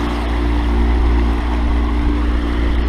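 Sailboat motoring under engine power at about five knots in light wind, a loud steady low diesel drone with constant hull and water rush, no voices.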